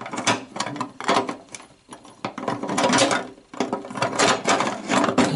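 A nut being screwed back onto car body sheet metal with the help of a small screwdriver: close, repeated metallic ratcheting and clicking in uneven bursts, with brief pauses between turns and no talk.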